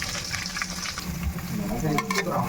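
Green chilies and onion hit hot oil in a pan already sizzling with fennel seeds, a close, steady frying hiss with stirring scrapes.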